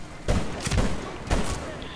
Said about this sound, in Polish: Tak, cztery strzały i nadal nic.